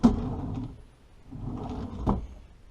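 RV kitchen drawers slide open and shut twice, each a soft rolling rumble ending in a light knock, close by and alone with no talk.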